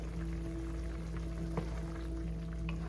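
Squid adobo sizzles and crackles steadily in a pan as soy sauce is added, a continuous frying hiss with occasional small pops and a low hum underneath.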